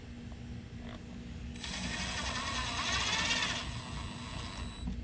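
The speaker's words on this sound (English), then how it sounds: "I'm just shooting these screws in here right now so that I can drill my other two." A power drill drives stainless steel screws into an old HighTide boat, whirring in a short burst of a couple of seconds that rises over a steady background hum.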